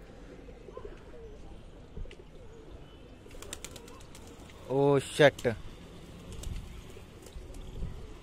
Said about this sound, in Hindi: मेरा कबूतर खुद गुटक रहा है इस पे।